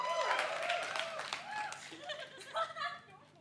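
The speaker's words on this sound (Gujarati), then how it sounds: "તાળીઓ થઈ જાય" At a Gujarati comedy roast, the crowd gives a short round of clapping blended with laughing voices and cheers, fairly loud at first, then thinning into scattered laughter.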